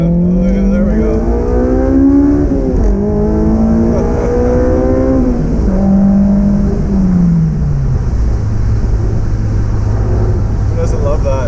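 A Honda S2000 engine revving hard as the car accelerates through the gears, the rising pitch dropping back at each shift, loud and close from inside the car.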